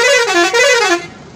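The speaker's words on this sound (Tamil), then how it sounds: "இதில் வந்து ஹார்ன் பார்த்தீங்கன்னா ஆம்னி பஸ்க்கு ஈக்குவலாக மாஸாக கொடுத்துருக்காங்க" A new mini tourist coach sounds a loud, close horn blast, a brassy multi-tone honk lasting about a second with slight wavering pitch, then cutting off.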